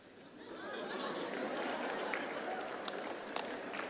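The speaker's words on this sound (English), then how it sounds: "Now, on this one, the teachers are clapping more than the students." Teachers and students clap together in a school setting, a soft, steady wash of applause that builds after a quiet start and blends with crowd chatter, heard from some distance.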